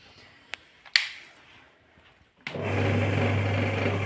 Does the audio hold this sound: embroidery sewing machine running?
yes